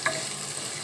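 Ginger, onion and garlic sauté in a pan for a milkfish dish. A quick stirring scrape comes over a brief, close sizzle.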